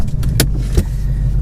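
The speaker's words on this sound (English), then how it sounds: "So let's get this sucker started." A 2019 Ford Mustang GT 5.0 Performance Pack 2, S550 generation, starts up and settles into a loud, steady, deep rumble heard from inside the car, with a couple of brief clicks near the start.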